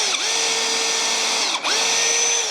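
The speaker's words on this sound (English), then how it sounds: "I'm going to just go ahead and drill through again." A power drill whirs at high speed drilling through a wooden floor frame, briefly dipping and spinning back up midway, loud and close.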